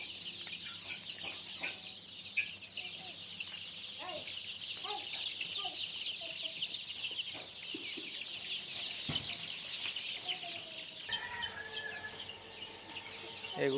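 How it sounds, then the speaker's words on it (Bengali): Several desi chickens, kept in a small rooftop pen, cluck and chatter continuously at close range, with scattered short calls over a steady background hiss and no talking. "এগুলো তিথির মুরগি।"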